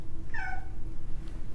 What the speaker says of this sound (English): Excuse me, I just trapped the cat.